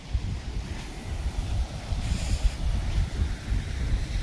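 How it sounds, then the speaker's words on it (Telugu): Waves and wind at Cola Beach in South Goa, a continuous low rumble of surf with gusty wind buffeting the microphone throughout, with no voices. "చిన్న బీచ్."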